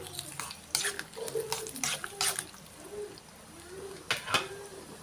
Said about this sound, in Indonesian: ini tuh udah mulai mendidih. Aku aduk-aduk dulu teman-teman